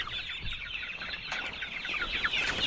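Farm chickens on the Saskatchewan prairie cluck and chatter in a quiet, fairly faint flock, with brief calls overlapping steadily against an open outdoor background.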